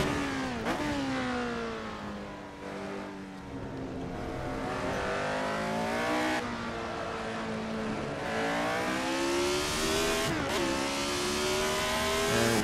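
Retro Formula 1 car engine in Assetto Corsa at the Nurburgring, screaming loud and steady as it accelerates hard, the pitch climbing through the gears with brief dips at each upshift.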